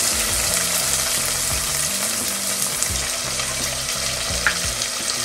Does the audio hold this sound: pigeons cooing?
no